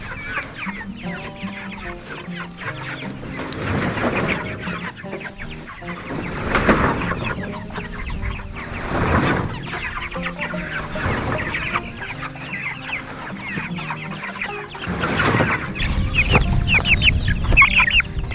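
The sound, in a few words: chickens clucking, layer hens and Cornish cross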